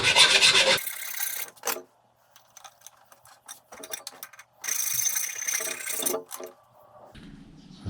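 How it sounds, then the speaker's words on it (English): A metal file scrapes across the outside face of a cheap Chinese shrinker stretcher to remove burrs, loud close rasping in two long bursts with quieter scraping and pauses between them. "Literally to make sure there's no burrs on it."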